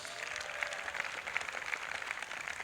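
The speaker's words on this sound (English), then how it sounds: "Will you please give a big round of applause to the people of New Mexico?" Audience applause for a touring cultural troupe at a live show, a steady dense wash of many hands clapping at moderate distance, fairly faint and even throughout with no voices over it.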